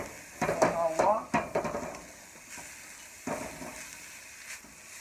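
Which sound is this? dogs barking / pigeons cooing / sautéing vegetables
sautéing vegetables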